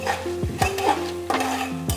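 Chickpeas are stirred in a frying pan with a metal spoon, producing repeated scraping strokes and clanks over a constant soft sizzle of oil, close and alone without talk.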